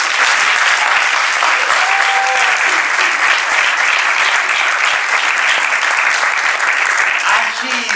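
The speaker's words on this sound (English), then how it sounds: "Please welcome Juliet Makipala." A loud, steady wash of audience applause welcoming a speaker onto the stage at a live comedy show, continuous and dense throughout with some crowd noise mixed in.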